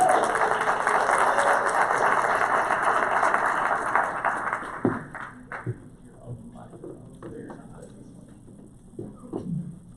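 An audience at a children's charity awards luncheon applauds and cheers honorees in a dense, steady wash of clapping for about five seconds, then it fades into scattered claps and someone speaking.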